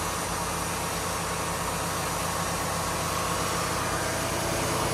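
A heavy lorry engine idles steadily up close in a farm shed, a continuous low rumble with a faint vibrating throb and no other sounds.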